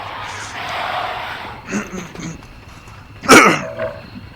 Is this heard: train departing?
no